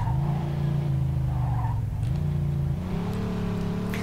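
A fast car in the Mafia 2 video game roars close and loud, its engine note climbing and shifting through gears. Tires squeal briefly as it races along.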